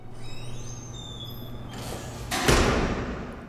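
A heavy door sounds in the opening of the horror film A Tale of Two Sisters, a low rumbling thud that swells and then fades after a quiet stretch of faint tones, with no speech over it.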